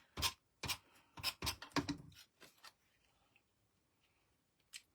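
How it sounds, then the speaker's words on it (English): Tape runner pressed and dragged across a scrapbook layout, giving several sharp, close scratchy strokes in quick succession, then a quiet pause and one last brief stroke. "All right, so we're gonna get our tape runner."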